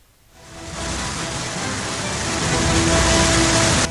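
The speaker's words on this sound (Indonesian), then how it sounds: "Hujan deras yang mengguyur kota Tangerang Selatan pada Minggu siang hingga sore" Heavy rain pours over the city of Tangerang Selatan, a dense steady roar that swells in within the first second and holds loud and unbroken until it cuts off.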